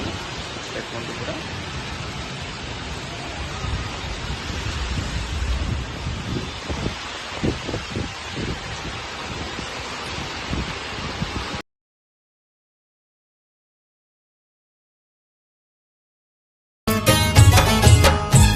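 Heavy rain pouring down in Bhubaneswar, a dense steady hiss with pattering on surfaces that runs for about eleven seconds, then cuts to silence before a brief louder burst at the end.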